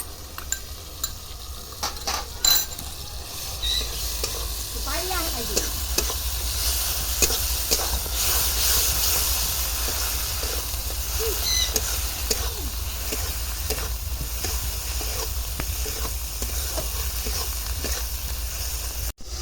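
Spinach, coriander leaves, drumsticks and green chillies sauté in a pan for an egg-and-spinach curry, with a soft continuous sizzle under frequent clinks and scrapes of a utensil against the pan and no speech.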